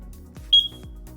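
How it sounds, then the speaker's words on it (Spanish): Ajax Systems alarm siren sounding a single short, sharp high beep during its entry delay countdown, heard close over a quiet background. "un retardo de 30 segundos que yo he configurado previamente con este pitido que nos hace la sirena"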